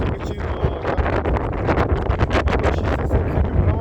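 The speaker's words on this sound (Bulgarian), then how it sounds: "Имаше много вятър." Strong wind blows outdoors near Kardzhali, a continuous loud roar and rumble buffeting the microphone throughout, with no voices heard.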